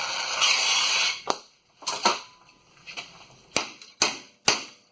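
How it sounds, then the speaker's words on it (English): Several sharp metallic hammer strikes on a heated, rusted-out 1995 Chevy 1500 frame ring out one by one at uneven intervals, following a brief torch hiss, close and loud with short decays. "I'm going to whack that with the hammer"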